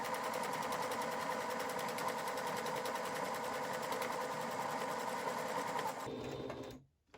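A sewing machine stitches down the side of a fabric face mask, running in a steady, loud, continuous whir for about six seconds before stopping abruptly.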